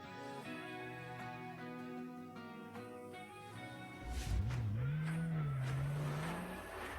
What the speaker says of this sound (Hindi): लिली को गाड़ी में बिठाओ